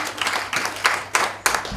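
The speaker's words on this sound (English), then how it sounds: "Please clap for yourself," Audience at a metabolomics workshop closing ceremony clapping in several loose bursts, a fairly close, moderately loud patter of hands that swells and fades repeatedly.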